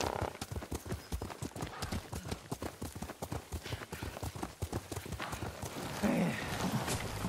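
A horse's hooves clip-clop in a steady, rapid gallop while riding in Ghost of Tsushima. The beats are close and even, with a faint whinny near the end.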